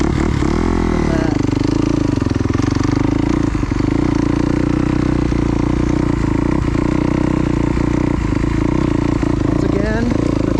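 A dirt bike engine drones loudly and steadily during a ride at a park, with a wavering pitch as it shifts and revs and occasional clattering knocks, while a rider talks over it.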